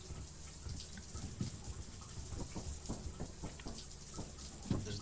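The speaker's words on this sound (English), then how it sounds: "This is the first shower." A shower runs in the video game Lethal Company, a steady hiss of falling water with scattered droplet splashes and small irregular spatters, fairly quiet and continuous with no voices.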